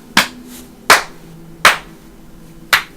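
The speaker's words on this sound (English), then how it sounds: "we're doing the clap." Four sharp, separate hand claps spaced under a second apart mark sync points while recording a podcast, each loud and close with a short room ring and no talking.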